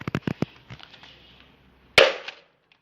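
A bicycle helmet takes several quick sharp hits in a row, followed after a pause by one louder, cracking blow close by, with no talking.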